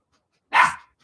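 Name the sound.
dogs barking in the hallway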